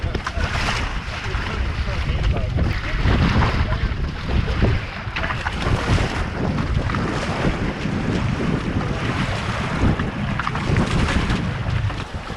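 A small Hobie sailboat cruises across open water, with strong wind buffeting the microphone, waves washing against the hull and people talking over the steady roar.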